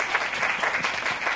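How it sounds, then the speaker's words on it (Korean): Brief burst of dense applause from a lecture audience, steady and fairly loud, lasting just over a second with no talking over it. "박수"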